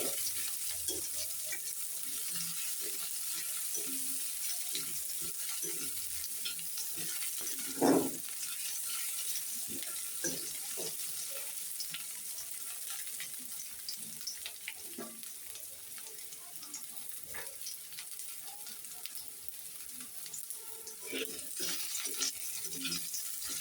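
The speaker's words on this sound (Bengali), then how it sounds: "পেঁয়াজ কুচিটা বেশি কড়া করে ভাজবো না, হালকা করে ভেজে নেব" Chopped onion fries lightly in a pan with a soft, steady sizzle, stirred now and then, with one sharp utensil clank partway through; the sound stays quiet and close throughout.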